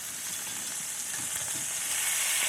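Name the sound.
pot roast meat sizzling as it browns in pan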